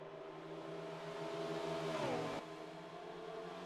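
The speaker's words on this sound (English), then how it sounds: "Going to keep her revved up." A NASCAR race car engine in NASCAR Heat 4 drones at steady high revs, its pitch dipping briefly before cutting off into a lower whir, moderately loud with no talk.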